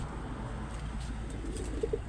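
A blue bar pigeon coos softly a couple of times near the end, low and muffled over steady background noise.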